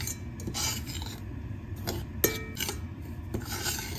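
Semolina (rava) roasting dry in a pan is stirred continuously on a low flame, with steady scraping and rubbing of a spoon against the metal and an occasional sharp clink, close and moderately loud.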